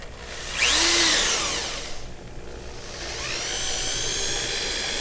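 A power drill spins up with a rising whine, bogs down, then drills steadily again; close and loud, with no talking.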